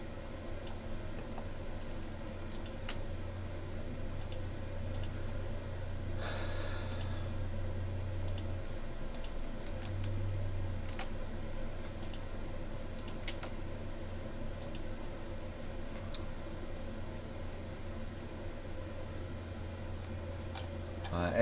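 Someone types on a computer keyboard with quick, soft clicks at an uneven pace, fairly close but quiet, against a low steady hum.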